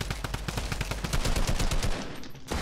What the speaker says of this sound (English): I hate the new drum gun sound.